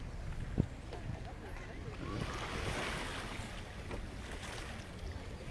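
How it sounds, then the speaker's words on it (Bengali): Red Sea waves wash against the shore at Jeddah as a steady broadband surge, with wind buffeting the microphone and a crowd of people talking nearby. "সমুদ্র"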